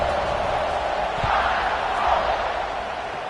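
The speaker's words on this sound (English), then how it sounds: "this crowd is buzzing after that last score" A packed American football stadium crowd keeps up a loud, steady roar and murmur after a score, close and continuous for the whole stretch, with no distinct voices standing out.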